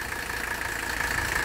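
Diesel engine with glow plugs running just after starting, a steady, moderately faint idle hum with a slight rhythmic knock.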